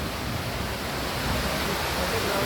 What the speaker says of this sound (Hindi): और ये वाटरफॉल